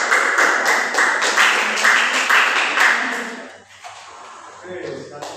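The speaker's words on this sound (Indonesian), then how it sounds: "Beri tepuk tangan" A primary-school class claps in unison during a microteaching lesson. The loud claps come in a quick, even rhythm for about three seconds, then stop as a teacher starts talking.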